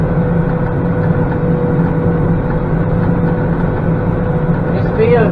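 A Massey Ferguson 4707 tractor engine baling hay on a steep field drones steadily and loud from start to finish, a continuous low rumble with no pauses, and a brief higher whine rises near the end.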